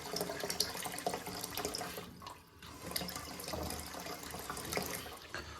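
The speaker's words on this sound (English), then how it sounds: "What we'll do is just put a bit more water in quicker." Steady rush of water pouring and splashing into a toilet cistern through a fill valve, continuous and fairly close, with a brief dip in the flow partway through.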